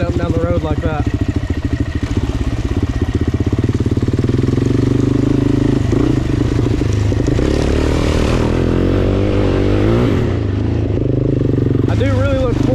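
A Suzuki LTZ-400 quad runs along a road with a loud, close, steady engine drone and some clattering, its pitch shifting as it changes speed, with someone talking over it.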